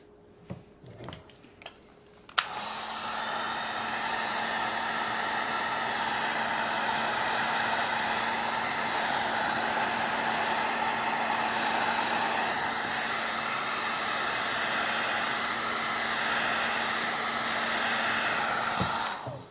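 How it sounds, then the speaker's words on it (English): A heat gun runs steadily for about seventeen seconds while a 1932 Emerson 12-inch desk fan, model 29646, is being rewired. It starts abruptly after a few faint clicks and keeps up a loud, even blowing hiss with a low motor hum until it cuts off. "When you're using a heat gun, always remember the tip is going to be very, very hot."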